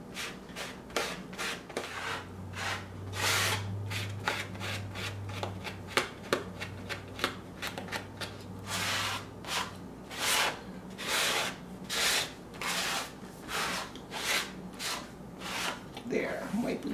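Paint scraped across an art journal page, a steady series of rhythmic rasping strokes repeating about once a second, close and clear, with a low hum running underneath for a few seconds.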